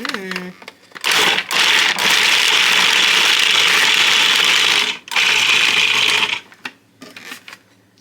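Electric mixer blending chickpea dough for chocolate chip chickpea balls, a loud whirring motor running in long bursts with short stops between, and people talking around it.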